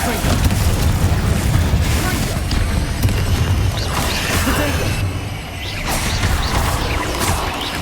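Blasting spell explosions in the Hogwarts Legacy video game, a dense, continuous barrage of loud booms, crashes and whooshes layered over each other with barely any pause.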